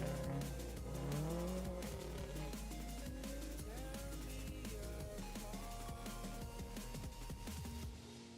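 A 2008 Subaru STI rally car on gravel tires, running in a limited four-wheel-drive class at a forest stage rally, roars past loudly and close, its engine note climbing and falling with tire noise before easing off at the end.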